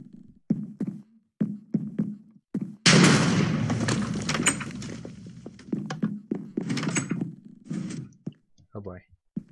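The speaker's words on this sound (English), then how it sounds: "I'll blow the window out so you can jump." An explosion blows out a window in Minecraft, a sudden loud burst that rolls on for a few seconds, with someone talking in bursts before and after it.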